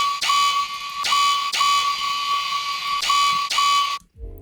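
A bass house synth with reverb automation plays loud, bright stabs in a repeating rhythm, tails swelling and washing out, then cutting to near silence at the end.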